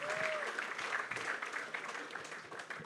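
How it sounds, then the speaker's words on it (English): Audience at a basketball summit in Vilnius applauds themselves at the start of a talk, a steady, fairly distant patter of clapping from a large crowd. "Give yourself an applause for being here"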